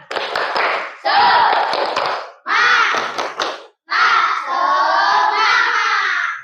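A classroom of students performs a rhythmic spirit clap in several bursts of patterned hand claps mixed with shouting voices, separated by short pauses.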